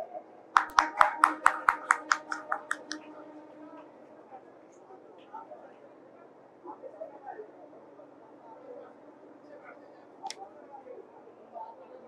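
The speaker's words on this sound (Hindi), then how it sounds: "जोरदार तालियां हरियाणा की छोरियों के लिए" An audience's applause for the girls of Haryana at a railway station redevelopment event: a short burst of rhythmic claps during the first few seconds, then faint room murmur and scattered noise.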